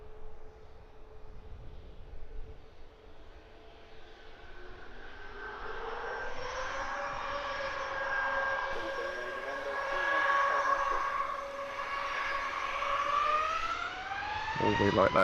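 Jet engine on an airliner at Luton Airport spooling up while still turning, a rising whine climbing steadily in pitch and loudness over a low rumble, heard from a distance with a voice talking.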